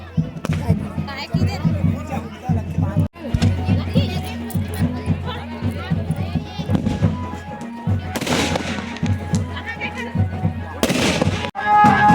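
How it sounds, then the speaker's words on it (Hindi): Firecrackers pop and crackle in rapid bursts nearby during a village festival in Chhattisgarh, India, with people chattering and calling out underneath. "पटाखा फोड़त है"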